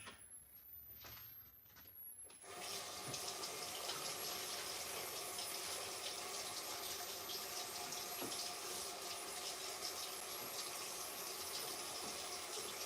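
Hot water runs steadily from a kitchen tap while someone cooks, a continuous rushing hiss that starts abruptly after a brief quieter moment and then holds at an even level, fairly close.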